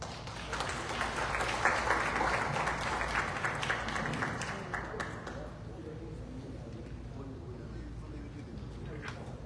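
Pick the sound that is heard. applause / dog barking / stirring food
applause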